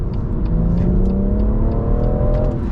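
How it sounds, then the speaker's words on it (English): A BMW M140i in Sports Plus mode accelerates hard, its engine note climbing steadily in pitch from inside the cabin, loud and continuous with a rising whine over road rumble and no talking. "That's why I love this car, being able to get to the speed limit real quick."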